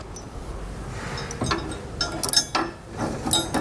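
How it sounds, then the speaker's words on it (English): Metal washers and a hex nut being spun hand-tight onto a bolt while setting up TorkLift tie-downs on a 2015 Ram 3500, giving a few scattered light metallic clinks and scrapes, fairly quiet and close. "Go ahead and get this one hand tight."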